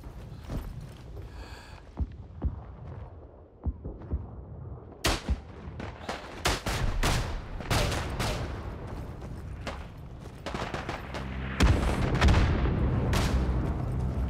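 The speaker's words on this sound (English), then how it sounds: "I can hear him shooting." Enemy gunfire in a first-person shooter rattles through the scene, starting with scattered distant shots and then building into dense, loud bursts and rapid volleys.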